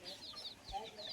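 A hen with a brood of about twenty young chicks, giving soft faint clucks and high chick peeps in a quick, brief burst at a low level.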